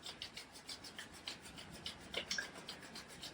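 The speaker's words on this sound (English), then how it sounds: "We're gonna rub our hands together, building some heat through our hands." Palms rubbed briskly together to warm them during a morning somatic yoga session, a quick regular swishing friction repeated many times, close and soft with no talking.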